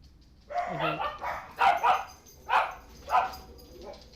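Dogs barking in the video game Star Trek Online, five or six separate bark bursts spaced about a second apart, moderately loud against a faint background hum.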